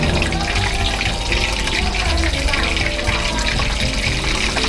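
Shrimp balls deep fry in hot oil with a dense, continuous bubbling hiss that stays steady and close throughout.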